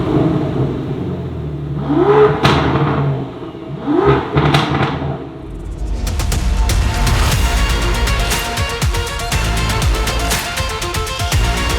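Aston Martin V12 Vantage engine blipped twice in sharp rising revs, then held in a loud, harsh, sustained roar at high revs, close and dominant.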